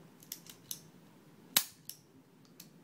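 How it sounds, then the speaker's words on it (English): Lever safety on a Walther PPK handgun being flicked, one sharp metallic click standing out among several lighter clicks and handling taps in a quiet room. "This handgun has a lever safety system."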